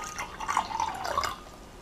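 Tap water trickles and drips onto a mirror placed inside a circle of salt for a ritual, a soft, brief splashing heard close up with no talk.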